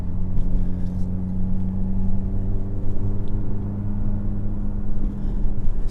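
A 2021 Hyundai i30N driven in M mode, its engine droning loud and steady from inside the cabin with a deep, even rumble and slight rises in pitch.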